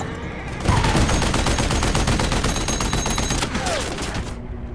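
Rapid bursts of heavy gunfire from an armored tank in a film battle scene, a loud, dense fusillade that starts abruptly and rolls on steadily for several seconds with sharp repeated reports.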